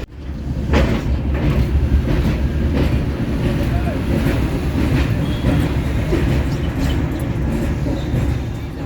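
A train rumbles across a 160-year-old railway bridge opened in 1865, a loud, close, continuous roar with rhythmic clatter of wheels and rail joints throughout.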